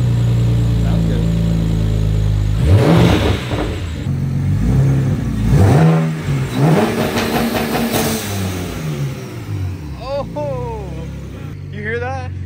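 A BMW 335i fitted with a big single turbo revs hard, its engine note rising and falling in sweeping pulls, loud and close, while people talk and exclaim over it.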